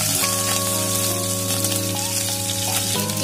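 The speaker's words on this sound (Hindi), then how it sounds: "अब मैं डाल रही हूँ इसके अंदर 2 हरी मिर्च कटी हुई।" Cumin seeds and chopped green chillies sizzle in hot oil, a steady close crackle and hiss that runs throughout with sustained musical tones over it.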